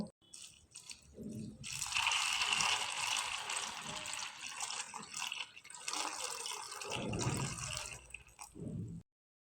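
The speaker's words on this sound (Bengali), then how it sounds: "আমি এখানে পরিমাণ মতো জল ব্যবহার করে মুড়িটাকে কষলে কষলে ধুয়ে নেব।" Puffed rice is rubbed and washed by hand in a bowl of water, making wet squelching and splashing sounds that swell and ease over several seconds, fairly close and soft.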